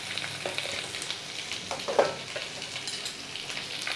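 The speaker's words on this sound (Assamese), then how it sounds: "শুকান জলকীয়া দুটা, কেঁচা জলকীয়া দুটা আৰু বিলাহী এই গোটেইখিনি মই ভালদৰে ভাজি ল'ম" Dried and green chillies with tomatoes frying in a pan, a steady crackling sizzle with a brief louder pop partway through, heard close and without speech.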